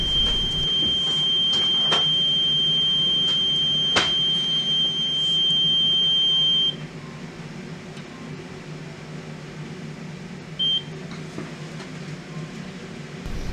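An oil mist detector alarm, set off by smoke detector test spray on a reconditioned detector head, beeps as a steady high tone over a constant machinery-room hum. The tone stops about halfway through, and the hum carries on alone.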